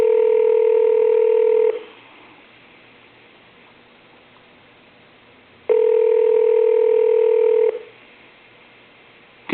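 A telephone tone sounds in two steady bursts of about two seconds each, separated by a quiet hiss, while a call is placed to a Walmart store. The tone is loud and close, and no one speaks.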